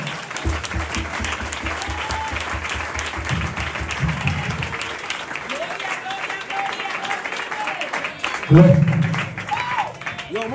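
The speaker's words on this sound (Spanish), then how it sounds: "Denle ese aplauso al Señor." A church congregation gives applause to the Lord, sustained clapping under worship music with a steady rhythmic beat, cheering voices and a loud swell of sound near the end.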